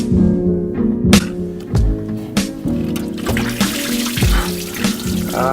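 Old, rusty coolant water drains from a disconnected radiator hose on a Nissan Skyline, a close splashing and trickling stream broken by a few metallic clanks, with no talking.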